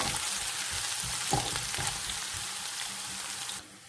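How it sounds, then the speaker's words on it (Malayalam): Garlic and ginger sizzle in hot oil in a pan while being stirred, a steady crackling hiss with a few scraping strokes, ending abruptly. "ഇഞ്ചി നന്നായിട്ട് ഇളക്കി കൊടുക്കാം"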